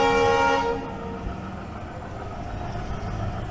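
A train passes at a closed railway crossing on a rural road, opening with a loud horn blast and then a steady rumble of wheels and wagons rolling by close at hand, with no voices.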